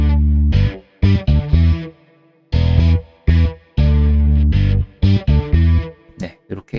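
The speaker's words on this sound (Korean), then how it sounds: "같이 가죠. 베이스 라인이랑 같이 들어보시면" Distorted electric guitar doubling a bass line in unison in a MIDI arrangement of a song, heavy staccato phrases separated by sudden silences, loud and punchy with no voice over it.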